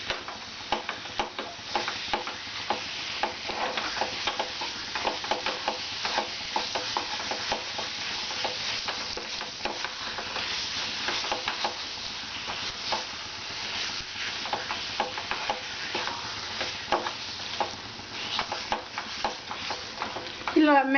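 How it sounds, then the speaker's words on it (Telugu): Dough is mixed with jaggery in a pan for nethi bobbatlu, a sweet flatbread. A steady, close scraping and stirring hiss goes on throughout, dotted with frequent small ticks. No voices. "ఈ పిండికి బాగా బెల్లం పట్టేలాగా మనం ఇలా కలిపేసుకోవాలి."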